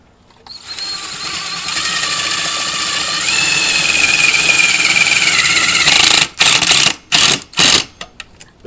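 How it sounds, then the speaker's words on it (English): A power drill drives self-drilling screws into a metal box, giving a loud sustained whine that rises in pitch as the screw bites, followed by several short sharp bursts as the screws finish seating. "these self-drilling screws are going to mount this nice"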